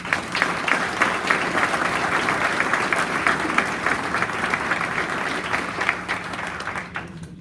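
Sustained round of applause from an audience at a civic awards ceremony honouring a canine team member, steady dense clapping for about seven seconds before tapering off at the end.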